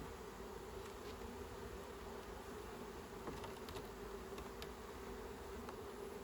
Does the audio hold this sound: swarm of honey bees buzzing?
yes